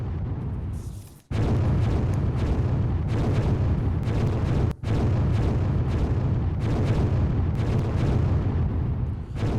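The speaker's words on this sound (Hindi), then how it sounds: "ये 30 बम से हमला किया गया जो मैं आपको दिखा रहा हूं" Bomb strike explosions, part of a 30-bomb attack, roar as a loud, sustained rumble with heavy low booms, broken by two brief dropouts, and continuous blasts and debris noise fill the whole stretch.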